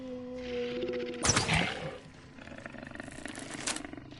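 An attack dog in the video game Hunt: Showdown lets out a loud, harsh snarling roar in one sharp burst, followed by quieter rasping growls.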